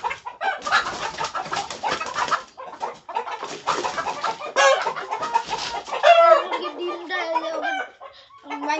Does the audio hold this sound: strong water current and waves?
no